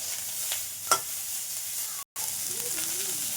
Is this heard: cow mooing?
no